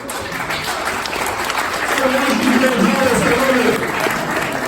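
Audience applause at a political campaign event in New Hampshire, swelling midway through and holding steady as a dense patter of clapping, mixed with talk.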